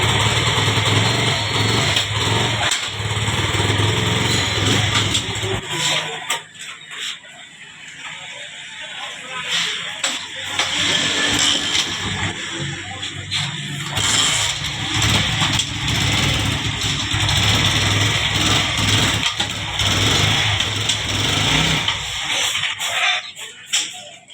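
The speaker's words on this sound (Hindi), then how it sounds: "बड़ा ज़बरदस्त साउंड आ रहा है बाइक का" A CD70 motorcycle engine, freshly fitted with a new clutch plate, runs steadily throughout, a loud continuous mechanical drone with a high whine, close by, with some revving variation.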